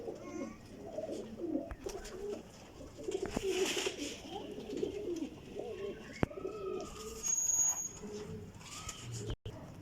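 Champion flying pigeons coo repeatedly at close range, with soft wingbeats and occasional sharp knocks, while someone speaks quietly in the background.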